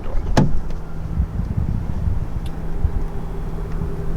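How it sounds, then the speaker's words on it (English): A sharp click-thunk comes from the door of a 2022 Jeep Compass Limited Elite as its smart-entry handle sensor unlocks it, a single brief latch sound followed by a low idle hum. "just reach behind the handle and a sensor will unlock the door"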